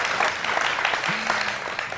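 Crowd applause from a political gathering, a dense steady patter of many hands clapping at moderate distance, brief and without speech.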